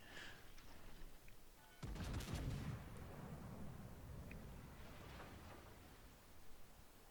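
A battleship firing high-explosive shells in World of Warships, a single deep, booming salvo that rolls out heavily and fades into a long rumbling tail, faint and heard without talk.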